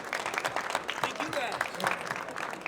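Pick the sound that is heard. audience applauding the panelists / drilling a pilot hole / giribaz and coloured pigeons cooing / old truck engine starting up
audience applauding the panelists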